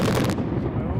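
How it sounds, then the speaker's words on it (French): Heavy gunfire from Malian army artillery during attacks in Mali, a dense burst of loud, close blasts filling the whole second, cutting off abruptly partway through with a rumbling tail. "L'armée malienne déploie toute son artillerie"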